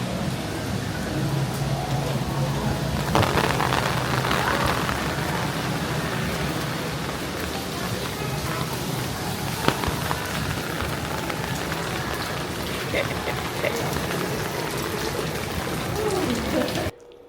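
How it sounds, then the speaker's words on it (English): Steady rain pattering on a surface aboard a cruise ship at sea, a continuous dense hiss with occasional louder drops, with faint voices in the background. "It is raining out, so we have our umbrellas."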